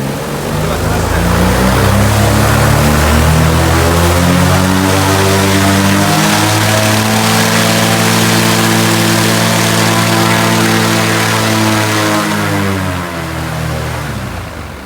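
A Viking 130 hp engine on an Aero Adventure Aventura aircraft runs loud and steady, a deep harmonic drone that swells slightly and then settles over the whole stretch without a break.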